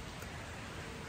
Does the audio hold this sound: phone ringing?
no